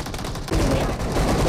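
Rapid gunfire from the mobile battle royale game Battlegrounds Mobile India, a dense burst of shots that thickens after a brief dip and carries on loudly to the end.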